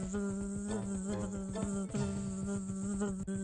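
A giant bumblebee in a flying video game buzzes steadily with a rough, pulsing drone, close and continuous, layered over game music.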